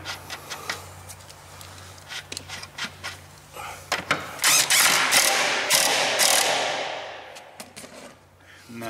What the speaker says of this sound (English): And then we're going to put the nut on it and tighten it down.